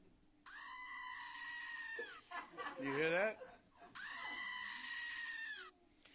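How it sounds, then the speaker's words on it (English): A screaming goat novelty toy lets out two long, loud, strained bleating screams, with a burst of laughter and a short spoken remark between them. "And what it is it's a screaming goat."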